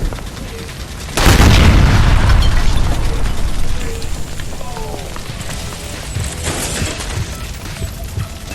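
A gas line in L.A. Noire bursts after being shot, giving one sudden heavy boom that rumbles and roars for a couple of seconds, then fades into crackling debris and lower rumbling.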